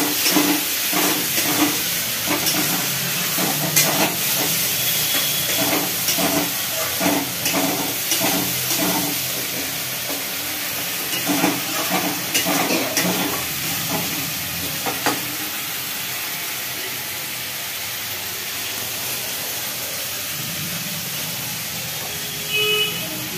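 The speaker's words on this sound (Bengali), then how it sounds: "মশলাটা একটু হালকা, জলটা ফুটে গেছে।" Spiced water boils in a cooking pan with a steady hiss and bubbling sizzle, broken up by repeated scraping stir strokes that fade toward the end.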